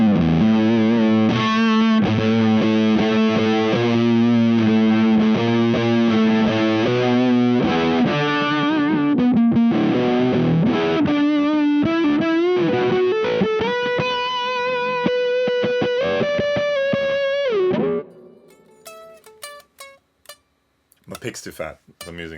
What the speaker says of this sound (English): Use a pick to roll off the output volume and also make the tone of the fuzz darker.